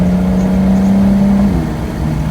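A car accelerates on a race track during hot laps, its engine a loud, close, steady drone that climbs in pitch and then drops as the driver shifts.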